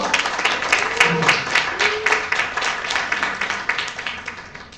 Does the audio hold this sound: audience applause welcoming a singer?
yes